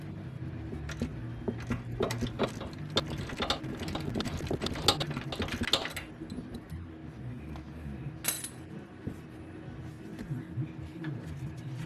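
A ratchet loosens 21mm upper control arm pivot bolts on a 1998 Ford Explorer, producing rapid clicking pawl bursts up close that are dense at first and then thin out into sporadic clinks.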